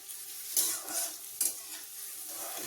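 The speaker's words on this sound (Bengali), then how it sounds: "ক্যাপসিকামটা কিন্তু আমি পরে দিয়ে খুব হাই ফ্লেমে ভেজে এটা তুলে নেব" Capsicum fries in oil over a high flame, a constant close sizzle broken by two sharp scraping stirs of a spoon through the pan.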